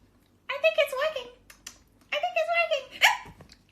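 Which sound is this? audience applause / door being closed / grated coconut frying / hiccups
hiccups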